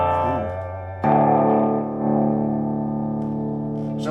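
Electric guitar played through a Burman 501 valve amplifier with the gain turned up, giving sustained distorted chords that swell after a brief lower note, loud and close with no speech over them.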